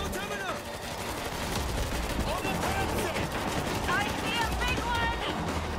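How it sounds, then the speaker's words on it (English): Automated turret in the zombie shooter World War Z keeps up dense, rapid gunfire across the whole stretch, mixed with chaotic game noise and faint voices underneath. "Ovo je auto turret"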